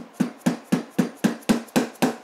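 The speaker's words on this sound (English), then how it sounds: "All this hammering on suspension parts." Eight sharp metal-on-metal hammer blows land at a steady rhythm on Yamaha DT175 dual sport motorcycle fork suspension parts during a rebuild, each strike close and ringing briefly.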